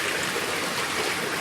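Water gushes steadily from spring spouts on Mount Lawu, a dense, continuous rushing splash that stays loud and close throughout.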